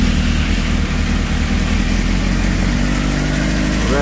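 A Suzuki GSX-R600 sport bike engine running steadily close by, a loud continuous mid-pitched drone with a slight rise in revs near the end, no talk over it.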